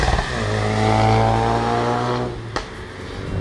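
BMW M140i exhaust, from a car with a six-speed manual, drones as the revs rise and fall, then drops off and gives a sharp pop near the end.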